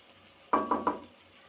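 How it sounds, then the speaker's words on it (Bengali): Pasta being stirred with tomato sauce in a pan, three quick scraping strokes in a row, close and fairly distinct over a quiet background. "নাড়তে থাকবো যেন টমেটো সস টমেটো সিদ্ধ যেটা করেছিলাম সেটা যেন পাস্তার সাথে"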